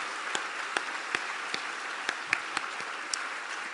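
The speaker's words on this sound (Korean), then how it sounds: "우리 한 번 더 환영의 박수 한번" A church congregation gives welcoming applause, sounding as sparse, scattered individual claps rather than a full ovation, fairly faint and spread unevenly over a few seconds.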